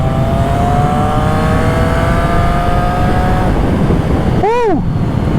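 A Triumph Trident 660 motorcycle fitted with a full Zard exhaust system revs loudly and steadily under wind and road noise, holding a rising engine tone before one sharp, swooping blip of the throttle near the end.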